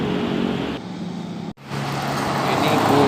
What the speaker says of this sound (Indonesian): Ini bus pariwisata, bus Putra Karo Mandiri.